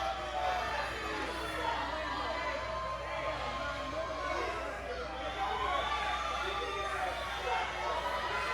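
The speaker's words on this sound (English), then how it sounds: "The crowd is riled up." A wrestling show crowd keeps up a steady roar of chatter and shouting through the whole stretch, with a commentator's voice talking over it.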